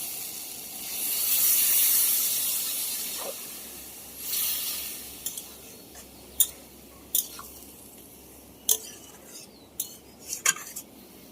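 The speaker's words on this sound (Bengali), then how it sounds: "এবার আমি জল দিয়ে দিই।" Water poured into a pan of fried spices sets off a hissing steam burst that gradually fades. Sharp metal clinks of a spoon against the pan follow, with no voices.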